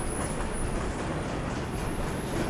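Train in the Little Nightmares 2 video game, a steady dense rumble of rolling carriages that fills the whole stretch without pause, loud and close, with no talk over it.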